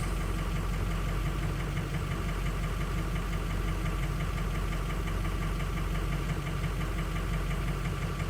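Engine idling with misfiring cylinders, numbers 4 and 6 dropping out when warm, on a car that had a crank-no-start problem; a steady, uneven knocking run, close and continuous with no talking.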